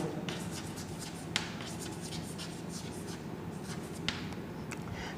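Pen or marker writing out a two-variable linear equation on a board, a steady scratchy stroking with a few sharp taps, close and continuous over low room hum.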